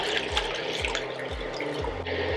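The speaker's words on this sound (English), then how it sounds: "I'm gonna start putting the water in here" Water poured steadily into a cooking pot holding dark soy sauce for soy sauce chicken, a continuous close splashing and trickling stream with no talk.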